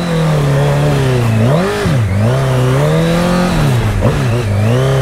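A loud Honda CBR1000 motorcycle engine revs continuously while drifting on wet ground, its pitch rising and dipping in sweeping waves as the throttle swells and eases, close and sustained throughout.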